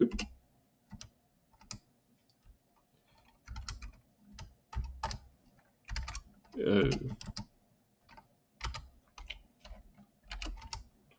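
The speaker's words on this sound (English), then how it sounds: "I hope you're enjoying my typing very slowly." Slow, uneven keystrokes on a computer keyboard during a livecoding session, with scattered single clicks and short bursts separated by pauses, close and fairly quiet, with a brief spoken sound partway through.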